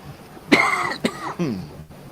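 A few harsh coughs close up, one sharp burst followed by a shorter one and a rougher throaty cough.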